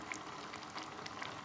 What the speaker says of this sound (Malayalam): നമ്മുടെ ബീഫ് നല്ല തിളച്ച് വരുന്നുണ്ട്.